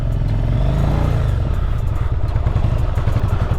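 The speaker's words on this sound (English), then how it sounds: "Put her into first gear. Take the choke off slightly. And away we go." 1985 Yamaha Virago 1000 V-twin motorcycle, Limited Edition, pulling away in first gear with the choke partly on in a residential street: a loud, close engine rising in pitch and then settling into a throbbing, rapid firing beat.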